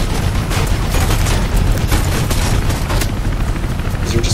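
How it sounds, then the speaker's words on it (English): Dense, continuous gunfire and booming explosions from the video game Mirror's Edge, a steady loud barrage of shots with no gaps throughout. "Is there just constantly gunfire shooting at me?"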